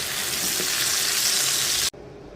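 Loud, steady sizzling of catla fish frying in a pan with garlic paste while it is stirred, cutting off abruptly near the end.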